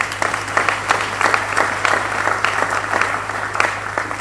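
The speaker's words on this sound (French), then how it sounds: "Acclamons la parole du Seigneur." A church congregation claps together after a scripture reading, a lively, fairly loud burst of applause with a steady rhythm that holds throughout, with no voices over it.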